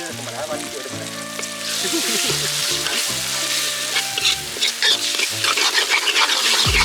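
Egg stirred and frying in a hot pan for Jaffna-style fried rice: a steady sizzle with scraping stirring strokes, over a brief voice near the start.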